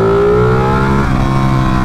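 A Ducati Panigale motorcycle engine drones steadily while riding, its harmonic tone sliding slightly lower midway as the revs ease, loud and continuous with wind noise and no talking.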